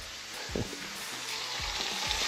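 Trout fry in a hot pan at home, a steady close sizzle with a few soft bumps and stirring scrapes over the constant crackle.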